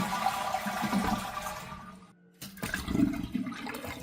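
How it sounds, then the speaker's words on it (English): A toilet being flushed to empty its tank with the water supply shut off: a close, loud rush of draining water, a brief quiet gap, then more gurgling and splashing as the bowl clears. "we're going to flush the toilet and get rid of the water that's inside the tank"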